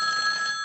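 A telephone bell ringing in a steady, bright electronic trill, close and clear with no voices over it.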